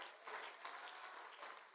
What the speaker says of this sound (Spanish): Un aplauso fuerte al Señor en esta tarde.